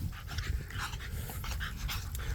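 American Bully puppies play and pant close by, a steady stream of quick breathy huffs and scuffling with small growly yips, continuous and fairly loud with no talk.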